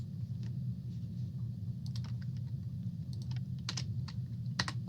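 Typing on a computer keyboard during an astronomy database search, soft irregular key clicks in short bursts over a low steady hum, close and quiet.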